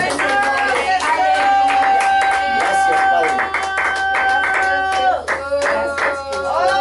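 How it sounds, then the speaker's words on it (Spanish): A church congregation claps steadily and loudly while a voice speaks over the applause and music-like tones sound in the background. "Un aplauso al Rey de Reyes."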